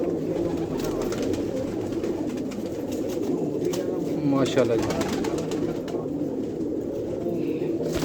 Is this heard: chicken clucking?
no